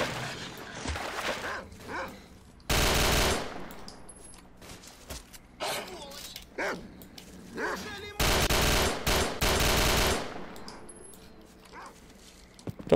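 Bursts of automatic gunfire in a battle with bandits in the S.T.A.L.K.E.R. Misery video game, with scattered single shots between two loud sustained volleys.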